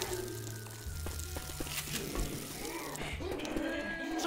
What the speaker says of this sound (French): Je recharge.